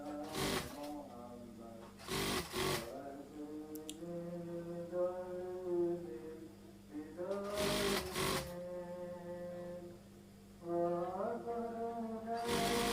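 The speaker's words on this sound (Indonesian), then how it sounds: "kita jahit, kasih satu sepatu saja" A sewing machine stitching fabric, with stiff interfacing laid along embroidered cloth, runs in several loud bursts of rapid mechanical whirring broken by short pauses, with a fainter hum and a voice talking over it between runs.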